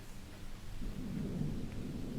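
Rumbling thunder with steady rain in a horror movie scene, a low continuous roll that swells partway through under a constant hiss of rainfall, with no voices.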